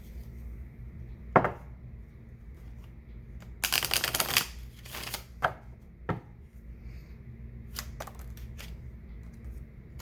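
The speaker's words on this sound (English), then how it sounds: "Let me shuffle them." Tarot cards being shuffled by hand in short bursts, a dense riffling flutter in the middle flanked by scattered soft taps and slaps of the deck, close up and quiet.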